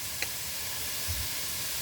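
Bacon fries in a pan until crispy, a steady, soft sizzling hiss that runs throughout with a faint tick or two of popping fat.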